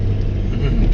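A car engine runs as the driver shifts into second gear, a steady low rumble heard beneath a person talking.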